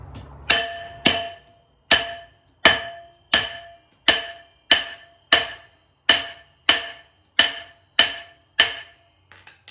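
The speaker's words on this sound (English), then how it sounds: "hitting it with a hammer." Sharp metallic hammer strikes on a part of a car's rear axle during teardown ring out one after another, about fifteen in a steady rhythm, each clang decaying quickly, close and loud with no talking.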